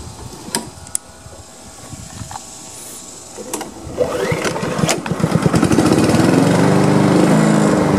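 A Honda HRM215 lawn mower is pull-started with clicks and a few tugs, then its engine catches and runs loudly and steadily up close.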